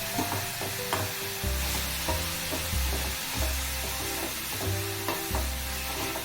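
Grated carrot sambharo fries in a pan over a low gas flame and is stirred steadily, giving a constant sizzle broken by a regular rhythm of spoon scrapes and knocks against the pan.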